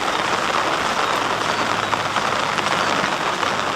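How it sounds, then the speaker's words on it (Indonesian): Steady rain pours down at Candi Plaosan temple in Yogyakarta, a dense continuous hiss with a low rumbling undertone, loud and unbroken throughout with no voices. "Soalnya hujan ini."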